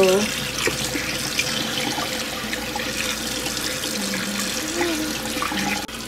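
Fresh fish being washed under a running tap, a steady splashing stream of water filling a sink throughout, with faint voices in the background.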